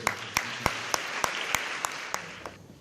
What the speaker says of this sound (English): So we can give a really big round of applause.